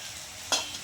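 Dried red chili and turmeric hit hot oil for Gujarati dal dhokli, giving a steady close sizzle that flares into two sharp bursts of spattering frying noise, with no talking.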